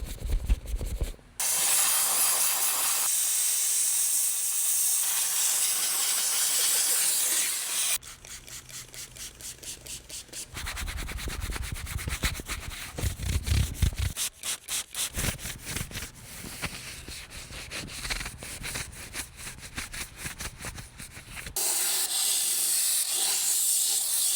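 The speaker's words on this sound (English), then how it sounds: "Maybe one little spritz of the heavy duty in there" Heavy duty cleaner hisses from a sprayer in long continuous bursts during the restoration of a 2004 Peterbilt truck, broken by stretches of rapid pumping spritzes and scrubbing, loud and close.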